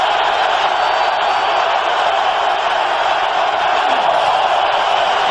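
A large football crowd at Lambeau Field roars during a 1997 NFC Divisional playoff game between Tampa Bay and Green Bay, a dense continuous wall of cheering that stays loud and even from start to finish.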